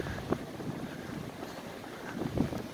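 Cold, gusty wind blows off a bay in heavy snow, a broad rushing roar buffeting the microphone with small louder gusts, and no voices.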